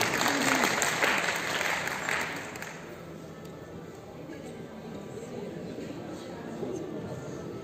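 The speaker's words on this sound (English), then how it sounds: "Give a big round of applause for Jay" Brief applause from a small audience at an Ayurvedic marma science session, fairly loud clapping in the first couple of seconds that quickly fades into quiet room noise.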